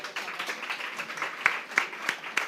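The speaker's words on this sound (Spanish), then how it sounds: "les pido un aplauso para ellos" An audience at a Spanish school-health family meeting gives scattered applause for the sign language interpreters, light irregular claps building into a few sharper, closer claps near the end, fairly quiet overall.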